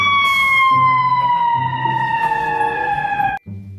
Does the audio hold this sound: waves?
no